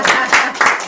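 A small audience at a health and detox talk gives a brief burst of clapping, loud and close, with a few uneven swells and a cheer-like voice mixed in.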